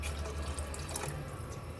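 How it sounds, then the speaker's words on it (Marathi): Water poured into soaked rajma for a gravy, a steady faint splashing flow heard close up without speech. "तेव्हा मी थोडं जास्त पाणी घालते आहे"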